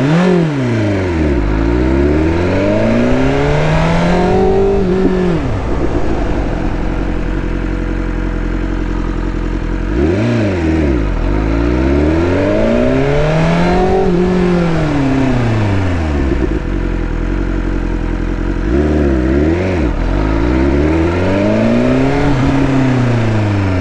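A motorcycle repeatedly speeds up from about 30–40 mph and then makes hard controlled emergency stops to bed in new brakes. The engine rises and falls in roughly three loud accelerate-and-slow cycles under steady wind rush.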